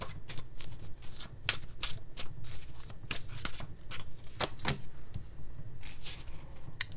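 Chinese tarot card deck being shuffled by hand, a close series of quick papery riffles and flicks in irregular bursts, no talk.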